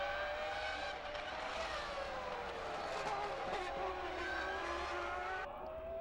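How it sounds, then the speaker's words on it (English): A 1998 Formula 1 McLaren and Ferrari race close together, their high-pitched engines screaming and shifting pitch as they pass and brake into a chicane, heard faintly over trackside ambience. "The McLaren is tucked in behind the Ferrari and Mika pulls out alongside the Irishman into the chicane"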